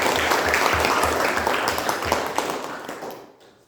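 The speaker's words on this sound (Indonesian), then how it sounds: "tepuk tangan untuk kelompok." A school class applauds a student group after its presentation, a brisk burst of many hands clapping that fades away to quiet in the last half second.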